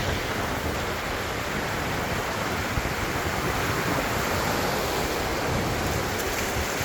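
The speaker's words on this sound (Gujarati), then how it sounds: "આ જો નદી છે ને, અહીંયા દરિયાને મળે છે." Sea waves on the Tunisian coast where a river flows into the sea, a dense, unbroken roar of surf close by with some wind, and no talking.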